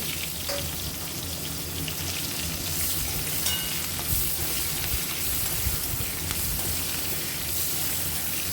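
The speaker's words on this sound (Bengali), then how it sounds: "কালো জিরে ফোড়ন দেব কুচিয়ে রাখা পেঁয়াজ পেঁয়াজটা একটু লাল করে ভেজে নেব" Chopped onions fry in oil seasoned with black cumin for a prawn dish with taro stolons, giving a steady, close, continuous sizzle with faint stirring and no talk.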